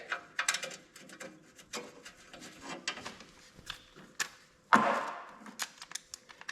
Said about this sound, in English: I gotta put the bolt back in the dipstick.